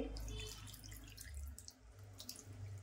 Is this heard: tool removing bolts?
no